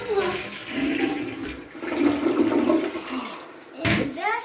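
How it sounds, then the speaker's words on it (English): A toilet flushes after being cleaned with blue cleaner, giving a loud, close gurgling rush of water that swirls and drains for several seconds, then ends with a short slosh. "Then all we need to do is flush the blue."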